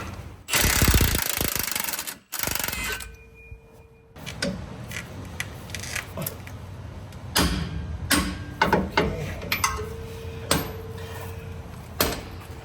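A power impact tool working on a Jeep Gladiator shock bolt at the axle gives a loud buzzing burst, then silence, followed by scattered clanks and short tool rattles and clicks nearby.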